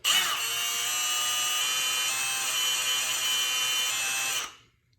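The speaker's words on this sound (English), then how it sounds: "proceed to turn on the drill and start drilling" A power drill runs at a steady high whine for several seconds while drilling a 1911-style pistol frame for a slide stop thumb rest, then winds down and stops near the end.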